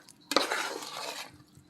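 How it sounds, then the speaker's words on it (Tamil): Cake batter for blimps cake being slowly stirred and folded as flour is added, a short soft scraping swirl of a spoon through thick batter in a bowl, close and quiet, with no talking. "கொஞ்சம் கொஞ்சமாக போட்டு ஃபுல்லாக கிளறிடலாம். ஸ்லோவாக மிக்ஸ் பண்ணணும்."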